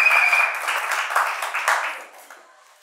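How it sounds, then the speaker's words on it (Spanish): Short burst of audience applause for an acoustic rock performance, a scattered clapping that starts fairly full and thins out, fading over about three seconds. "Aplaudan, Soretti, ahora sí."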